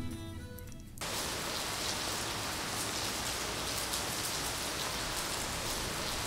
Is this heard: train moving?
no